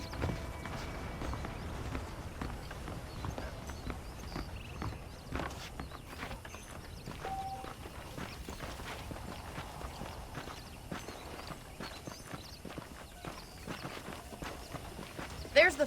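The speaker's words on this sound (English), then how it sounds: "The horses are saddled up over here." Horse hooves clip-clop at a walking pace in the Western video game Red Dead Redemption, faint and steady under a man's speech, with soft ambient background throughout.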